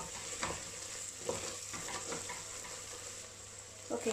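Spice powders fry in a pan ahead of mutton keema, giving a steady soft sizzle with occasional scrapes of a stirring spoon, close and unvoiced.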